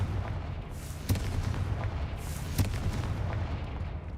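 A Confringo blast spell cast in Hogwarts Legacy bursts with two distinct booming impacts, each a sharp crack followed by a rumbling explosion, over a low, steady game background hum without speech.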